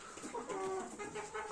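Chickens cluck softly and close by while being fed fish, giving a few short, rising calls over a quiet farmyard background.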